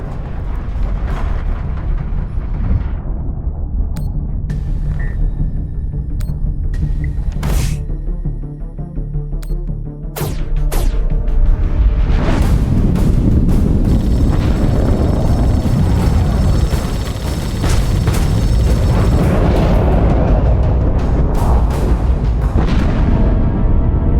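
Torpedo explosions in a spaceship battle in the video game The Expanse, with deep rumbling booms, sharp blasts and a heavy roar that swells and stays loud, with no talk.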